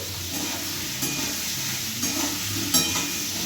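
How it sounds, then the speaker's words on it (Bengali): Curry cooking in a pan, with a steady close sizzle and frying hiss joined by occasional soft stirring scrapes, no voices. "এদিকে রান্না হচ্ছে"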